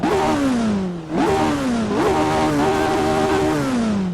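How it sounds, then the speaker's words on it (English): A 1966-era Formula 1 car engine in a Monaco racing game revs hard three times, each rise sweeping up and easing down in a loud, continuous, close-up whine with no talk over it. "let's give this throttle a bit of a bootful"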